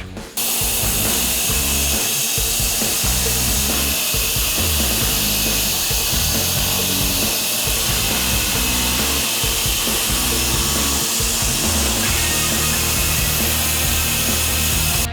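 A sawmill rips through wood boards in one loud, steady, unbroken roar that lasts the whole stretch, with no voices over it.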